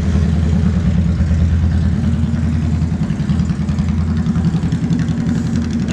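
A motorcycle with loud aftermarket pipes idles close by, a steady rumbling exhaust note with a slight uneven lope and no voices.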